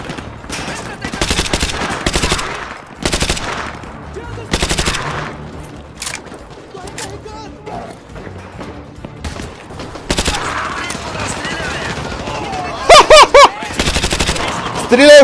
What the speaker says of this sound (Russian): Стреляю в противника!